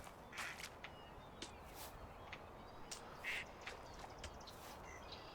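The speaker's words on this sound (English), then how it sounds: "little ducks." Ducks quacking faintly in the medieval survival game Medieval Dynasty, a few short distant quacks over a steady hiss of reeds and outdoor ambience, with no voices.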